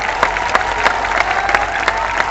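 Crowd applause at a BJP political election rally in Anandpur, a steady wash of many hands clapping with sharper bursts roughly every third of a second, broad and close without voices on top.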